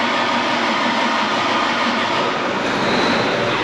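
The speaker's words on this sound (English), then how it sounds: "So we're going to start the tractor up, see how it runs" A John Deere 9410R tractor engine runs with a loud, steady, close roar that stays even throughout, after repairs to its VGT turbo and coolant pressure faults.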